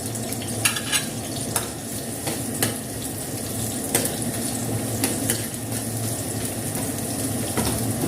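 Garlic and onion sauté in a pan for sweet and spicy chicken feet, a steady close sizzle with occasional stirring clinks and scrapes, no talking.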